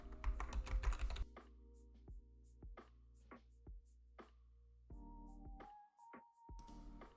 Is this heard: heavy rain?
no